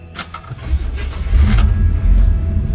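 A 1968 Chevrolet Impala SS with a 327 V8 and automatic transmission cranks briefly and catches, then settles into a deep, loud, close idle rumble.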